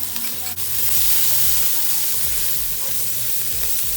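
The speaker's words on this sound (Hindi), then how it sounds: "1 से 2 मिनट अदरक लहसुन को भी फ्राई कर लेते हैं" Ginger garlic paste frying in oil while preparing karela keema, a loud, continuous close-up sizzle with stirring and scraping in the pan, no voices.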